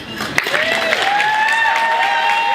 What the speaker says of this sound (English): Another round of applause for Lieutenant Sabrina Briggs